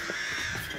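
A crow gives a harsh, raspy caw, loud and close, sustained through a brief moment with no talk.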